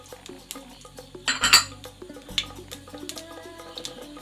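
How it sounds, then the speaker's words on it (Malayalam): Sharp little pops and crackles of mustard seeds in hot oil scatter irregularly, with a denser, louder burst of spitting about a third of the way in. "കടുക് പൊട്ടുമ്പോഴേ ഉഴുന്നിട്ട് കൊടുക്കാം"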